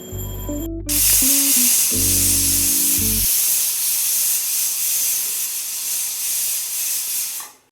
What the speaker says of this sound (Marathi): कुकरच्या शिट्या होत आहे